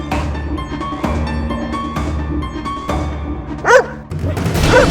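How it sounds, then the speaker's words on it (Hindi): A dog barks inside a courtroom, a short yelp-like burst near the end rising over a busy, music-laden background. "ये कुत्ता अदालत में क्या कर रहा है?"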